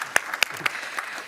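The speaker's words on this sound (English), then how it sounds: "So I think it's worthy of applause again." An audience on the main stage of the Riga Conference 2025 gives a brief round of applause: a few sharp, distinct claps spaced through a short moment, fairly close and thin rather than a full ovation.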